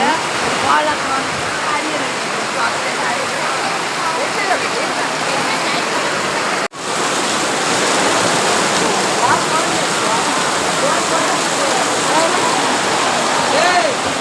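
Heavy rain pouring at a temple, a dense, steady roar of falling water that continues without a break, loud and close throughout.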